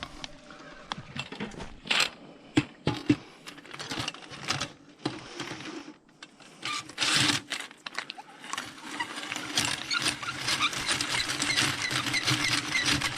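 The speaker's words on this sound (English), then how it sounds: "We need to put that auger in there one more time." A plumbing auger's six-foot cable is pushed through a clogged, overflowing toilet, giving irregular scraping, rattling and knocking bursts that become denser and more continuous toward the end, close by and with no speech.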